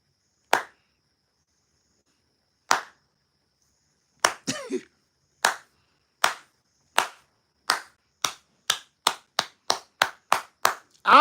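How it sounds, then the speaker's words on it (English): A slow clap: sharp single hand claps, widely spaced at first, then coming faster and faster into a quick steady run, close and crisp with no voices. "I'm the slow clap starter."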